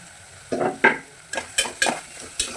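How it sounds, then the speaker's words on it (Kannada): Onions and ridge gourd frying in a pan on a home stove, stirred in about six distinct scraping, sizzling bursts that come close and fairly loud, with short pauses between strokes. "ಈರುಳ್ಳಿ ಸ್ವಲ್ಪ ಫ್ರೈ ಆಗಿದೆ ಇವಾಗ ಹೀರೆಕಾಯಿ ಹಾಕ್ಕೊತಾ ಇದ್ದೀನಿ"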